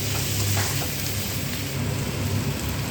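Chow mein sauce with soy sauce and tomato sauce fries in a hot pan, giving a loud, continuous, crackling sizzle that stays steady throughout with no voices.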